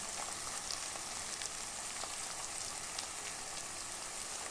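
Onions and green chillies fry gently in a pan for a chicken, green chilli and coconut curry. A soft, even crackling hiss runs steadily throughout with small pops, and there is no talking.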